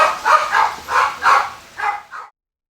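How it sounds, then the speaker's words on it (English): Several dogs bark in a quick run of six or seven loud yaps with short gaps between them, close by inside a home, then cut off into silence. "The dogs barking, 2 televisions on, a box fan and kitchen noise all prevented the Laytons from hearing what came after the knock."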